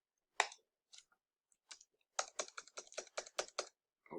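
Keystrokes on a computer keyboard: a few scattered taps, then a quick run of about ten evenly spaced clicks, close and clear with no voices.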